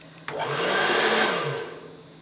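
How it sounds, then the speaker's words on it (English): A hair dryer switches on with a click and blows steadily with a loud whooshing hum for over a second, then clicks off. "My hairdryer is a bit powerful, so it'd probably blow half the stuff off the table"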